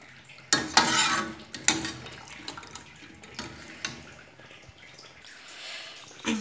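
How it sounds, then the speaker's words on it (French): Boiled, desalted olives are stirred into a tajine in a pot. A utensil scrapes and clinks against the pot in uneven bursts over a soft background sizzle, with no talking. "je vais ajouter les olives que j'ai fait bouillir"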